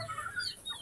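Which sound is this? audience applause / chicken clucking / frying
chicken clucking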